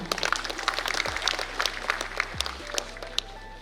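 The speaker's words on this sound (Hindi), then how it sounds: "जोरदार तालियां।" Enthusiastic applause from a crowd at a National Mathematics Day celebration at Gyan Bhawan, Patna, a dense patter of clapping heard over a low hum, continuing steadily.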